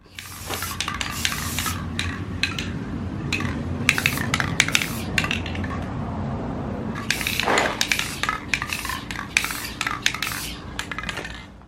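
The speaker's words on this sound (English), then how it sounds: "I went ahead and spray painted over that with the gold" Repeated bursts of hissing gold aerosol spray paint on metal bathroom hardware, several short and long sprays close by, with faint clinks and handling noises between them.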